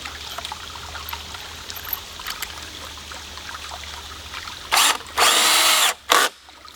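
A power drill drives 1 5/8 inch screws into wooden flume boards, two loud close bursts of whirring after a quiet stretch of background hiss and trickling water.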